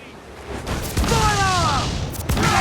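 Ship cannons firing in Assassin's Creed 4 Black Flag, a few booming blasts layered with tonal game sound effects, loud and close amid noisy battle ambience.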